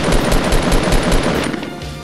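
Rapid automatic gunfire in a video game, a steady stream of loud shots for most of the stretch, then tailing off into quieter noise near the end.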